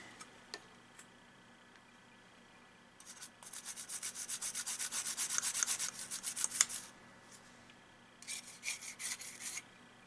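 A small brush or cloth scrubs an N64 cartridge circuit board wet with isopropyl alcohol: quiet, close rubbing strokes come in two bursts, a longer rapid stretch in the middle and a shorter one near the end, separated by near-silence.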